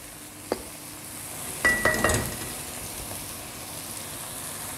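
Green chillies and spices sautéing in a pan for palak biriyani: a faint, steady sizzle, with a quick cluster of metallic clinks and scrapes as a spoon stirs, close by and quiet.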